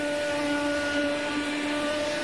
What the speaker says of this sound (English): I'm cleaning house with my brand new vacuum.